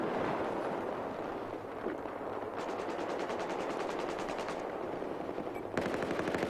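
Sustained suppressive gunfire in the video game Battlefield 4, a dense continuous clatter of automatic weapons with rapid bursts and layered shots, loud throughout with no pause.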